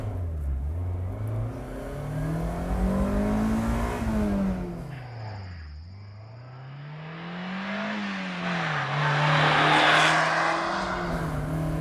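A 1990 Mazda Miata carrying two people revs up through the gears while climbing uphill against the wind, the engine pitch rising and falling with each shift, loud and close with wind noise.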